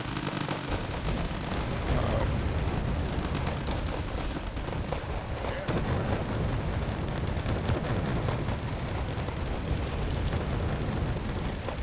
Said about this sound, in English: Well, I'm firing mortars there.